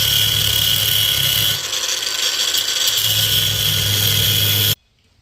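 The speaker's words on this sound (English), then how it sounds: "A little bit of grinding later to take the backside off of there" A grinder grinds the back off a metal engine part, continuous with a harsh, high whine that dips briefly in the middle, then stops abruptly.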